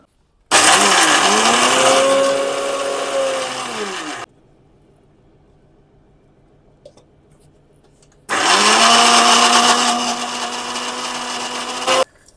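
Dry fruits ground fine in an electric mixer grinder, heard as two loud whirring bursts of about four seconds each with a brief quiet pause between them.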